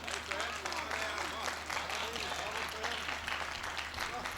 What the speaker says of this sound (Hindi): गीत पे इतनी तालियां आ गई